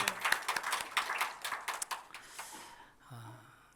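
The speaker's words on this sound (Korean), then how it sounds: "우리 하나님께 영광의 박수 올립시다" A church congregation claps together at a Sunday morning service, a run of fairly loud claps for about two and a half seconds that then fades, with a voice starting up near the end.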